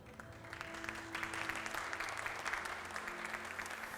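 Steady applause from a gathered crowd at a wedding ceremony, moderately loud and sustained throughout with no talking over it.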